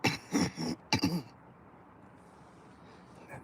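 A person clears their throat in a few loud, harsh bursts close to the mic during the first second, followed by a quieter, steady room background.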